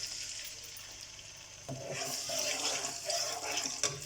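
Onion paste dropped into hot cooking oil in a pan for a Shahi daal mash, starting with a faint hiss that jumps to a steady, louder sizzle and crackle partway through, with no talking.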